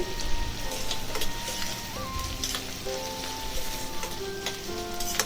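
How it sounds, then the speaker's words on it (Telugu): Sliced onions frying in oil and ghee over a medium flame for a pepper garlic chicken fry, a steady crackling sizzle like light rain with occasional faint tones in the background, close and unaccompanied by talk. "ఈ ఉల్లిపాయ ముక్కలు వేసి మీడియం ఫ్లేమ్లో గోల్డెన్ బ్రౌన్ కలర్ వచ్చే వరకు వేయించుకోవాలి."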